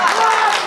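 Award-ceremony audience applauding a winner of a stage-performer album award: dense, continuous clapping and crowd noise, loud and steady throughout the short burst.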